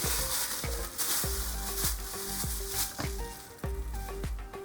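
Sirloin steak sizzles loudly in a hot pan, a steady dense hiss broken by a few sharp scraping knocks roughly every half second to second.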